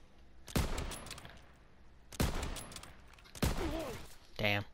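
Three sharp gunshots ring out at roughly even intervals during a one-on-one video game match, each a loud crack with a short tail, and a brief burst of voice sounds near the end.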